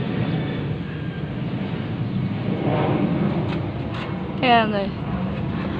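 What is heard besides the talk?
airplane passing overhead near an airport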